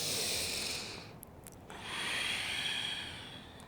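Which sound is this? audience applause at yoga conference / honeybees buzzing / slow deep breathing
slow deep breathing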